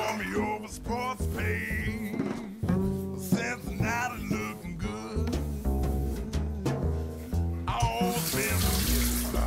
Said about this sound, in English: Rinse it off with hot water.